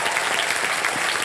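A studio audience on a game show set claps for a band, a dense, even burst of applause that fills the room with no voices on top.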